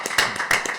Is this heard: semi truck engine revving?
no